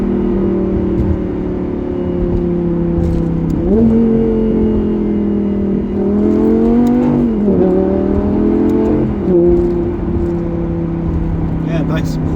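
A Lamborghini Gallardo Superleggera accelerating on the road, its loud, steady engine drone climbing in pitch through several quick gear shifts, with the note briefly dropping at each shift before rising again.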